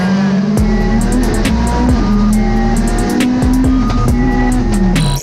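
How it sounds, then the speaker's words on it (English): The 600 hp all-wheel-drive Ford Focus RS RX rallycross car's engine revs hard and close, a loud sustained roar rising and falling in pitch with crackling pops, and no talk over it. "It's just such an amazing engine."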